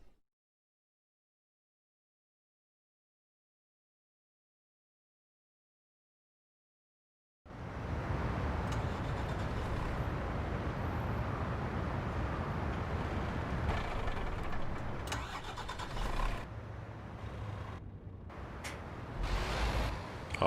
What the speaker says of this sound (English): Okay, we still have engine noise for this truck.